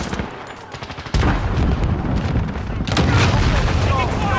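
AS VAL rifle and machine gun fire in a shooter video game pound in rapid, loud bursts with booming impacts, while game voices call out over the continuous firefight.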